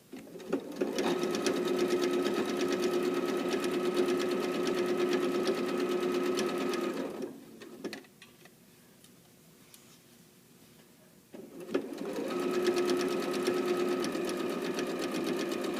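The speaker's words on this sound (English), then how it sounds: "keep making sure that this is going to be flat as it sews through the sewing machine" A sewing machine stitching around a shorts waistband, running in a steady close whir for several seconds, pausing briefly into near quiet, then starting up and running again.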